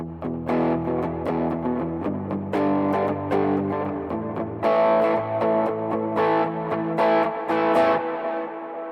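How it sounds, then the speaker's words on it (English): An electric guitar played through a Quad Cortex with heavy reverb and delay, distorted chords and single notes ringing into long washy tails, a few spaced phrases over nine seconds, loud and up front with no talk. "so if I were to do that with like a bunch of reverb and delay"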